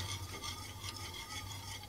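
Semolina, flour, salt and sugar mixed with water being stirred in a bowl, a steady close scraping and swishing that runs without pause, with a low hum underneath.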